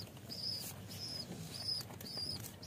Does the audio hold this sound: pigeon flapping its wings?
yes